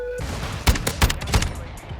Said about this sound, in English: you just use your underbarrel shotgun